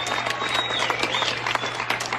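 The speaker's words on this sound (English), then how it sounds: "People keep clapping" Audience clapping plays back from a video, a dense steady patter of many hands that holds evenly throughout, with a faint tone running underneath.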